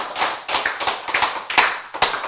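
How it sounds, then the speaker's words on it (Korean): A short burst of hand clapping, several sharp claps in quick uneven rhythm from a small group, close by. "박수"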